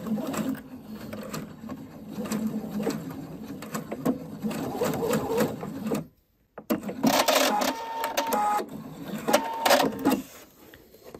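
A sewing machine stitches down a sleeve cuff at the end of a sleeve placket, humming steadily up close, pausing briefly about halfway, then resuming with a brighter, busier whir.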